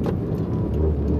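A Toyota MR2 project car's engine gives a steady, dense low rumble with broadband roar. It runs continuously and fairly loud for the whole moment, with no talking.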